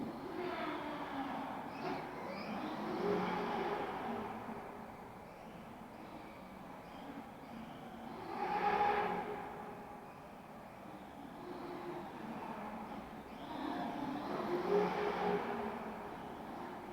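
A small 1/7-scale MJX Polo RC car whines and grinds in repeated surges, rising and falling about three times, rough and fairly faint, with no talking.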